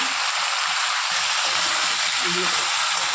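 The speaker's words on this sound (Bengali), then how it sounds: "ডাঁটাগুলো একটু ভাজবো" Vegetable drumstick stalks frying in hot oil, a loud, dense, continuous sizzle close up with faint stirring underneath.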